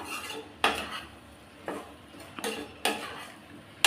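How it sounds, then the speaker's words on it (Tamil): A spoon stirs sambar powder into vegetables in a pressure cooker, with four or five sharp metallic clinks and scrapes against the pot over soft background sizzle, close and without talk. "இது எல்லாத்தையும் சேர்த்து நல்லா கலந்து விட்றலாம்"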